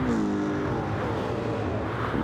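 Several V8 race cars, including a Shelby, roar through a Tokyo street circuit in Gran Turismo 7, a steady loud engine drone with rising revs, no talking.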